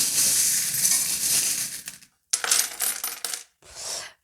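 Small fortune-telling charms drop and scatter in three bursts of bright, clattering metallic jingles, the first long and loud, then two shorter spills after brief silences, with no one talking.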